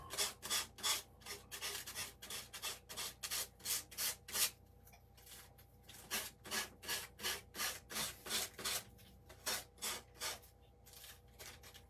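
Repeated rubbing strokes of an emery board or sanding sponge used on a Christmas cross craft, a steady run of rhythmic scrapes with a brief pause partway through, close and fairly quiet with no talking.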